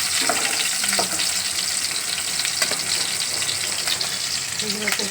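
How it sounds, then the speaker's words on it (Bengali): Pieces of egg cake fry in hot oil with a dense, continuous crackling sizzle, close and loud, broken by a few light scrapes and clinks. "সব টুকরো করে ভেজে নেব"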